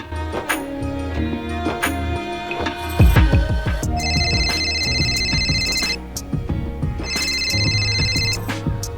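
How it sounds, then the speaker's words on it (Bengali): An electronic phone ringtone chimes in repeated bursts over busy background music and clatter, fairly loud throughout. "ফোন তুমি করতেই থাকো লোন আমি শোধ করছি না"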